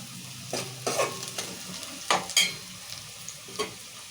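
Thinly sliced onions frying in a pan for mutton curry, with a steady low sizzle broken by several scraping stirs at irregular intervals, close and moderately loud.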